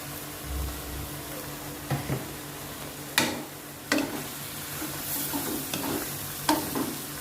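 Snow peas, shrimp, squid and baby corn stir-fried quickly in a pan, a low steady sizzle punctuated by several sharp clanks and scrapes of the spatula against the metal.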